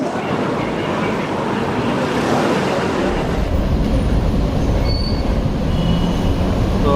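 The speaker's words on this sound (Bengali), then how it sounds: "তো আমরা এখন নানা বিটিএস স্টেশনে" A BTS Skytrain train at Nana station in Bangkok rumbles in, growing louder and closer, with thin metallic wheel squeals rising above the heavy rolling noise.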